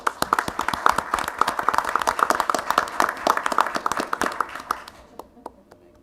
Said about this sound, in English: So I just want to give them a big round of applause and thank them for coming tonight as well